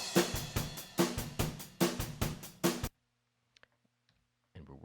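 Raw unmixed drum tracks, a dry close-miked groove of punchy kick, snare and hi-hat hits in a steady pattern for about three seconds, then stopping abruptly into near silence before a voice begins.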